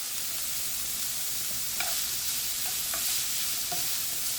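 Vegetables saute in oil in a pan for stuffed portabella mushrooms with sausage, a steady close sizzle with a few light clinks of a utensil stirring.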